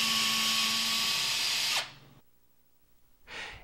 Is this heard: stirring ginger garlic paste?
no